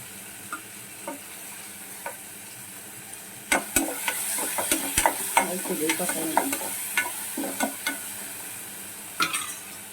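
Eggs, brinjal and raw prawns fry in a pan with a constant soft sizzle, broken by sharp spatula clicks and scrapes that cluster in the middle; close up, with no voices.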